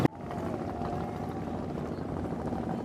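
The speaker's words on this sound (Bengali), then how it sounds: "আমরা এখন সদরঘাটে বুড়িগঙ্গা নদী পার হচ্ছি আর নৌকায় উঠলে কিন্তু ভালোই লাগে" A boat crossing the Buriganga river at Sadarghat gives a steady, moderately loud engine drone with a low hum, running unbroken from start to finish after a brief knock at the outset.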